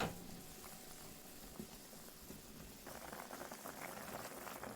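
A pan of seasoning sauce with a cup of water and kelp boils gently, a faint, low bubbling and soft popping that thickens slightly toward the end.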